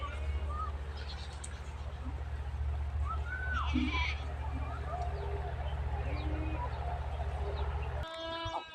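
Goats bleat on a farm in short scattered calls of varying pitch over a continuous low rumble, while people talk throughout.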